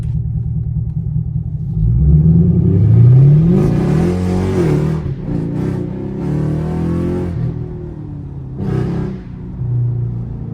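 A loud 500 hp catless Chevrolet Camaro SS engine rumbles and revs up, rising in pitch before settling back into a deep, throaty idle with a few more blips.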